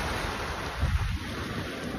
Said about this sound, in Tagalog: At medyo lumalakas ang ulan.